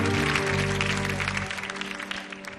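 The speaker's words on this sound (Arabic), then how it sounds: "صفقوا عليها" A studio audience on the Moroccan TV talk show Rachid Show applauds briskly over a sustained musical tone, then the clapping thins and fades toward the end.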